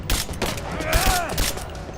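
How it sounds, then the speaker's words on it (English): Gunfire in the video game Rise of the Tomb Raider, a dense, loud fusillade of shots crackling through a chaotic firefight, with combat voices shouting under it. "Under fire!"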